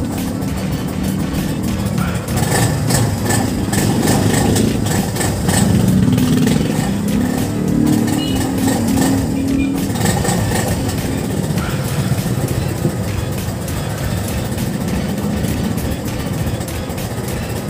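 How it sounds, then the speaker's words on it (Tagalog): A motorcycle engine warms up and idles, a steady mid-pitched putter that runs continuously and close by with no speech over it. "Papainitin muna natin ang ating makina."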